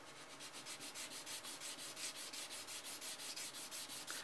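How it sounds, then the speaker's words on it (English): A fine sanding stick rubs a plastic Gundam HG Zaku model part in quick, even back-and-forth strokes, about five per second, each a soft close scratchy swish, faint and steady with no talking. "I'm going to use a fine sanding stick."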